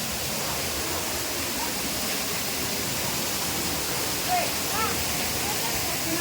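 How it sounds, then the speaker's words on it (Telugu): A waterfall roars steadily and evenly throughout, a broad rushing wash of water close by, with faint voices now and then. "సో గైస్ చూసారుగా మొత్తం వాటర్ ఫాల్"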